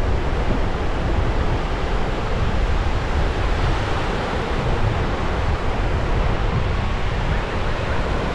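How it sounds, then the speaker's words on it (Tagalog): Strong ocean waves surge in a continuous, loud roar with wind buffeting the microphone, a steady broadband wash of surf with no breaks and no voices over it. "Malakas ang alon."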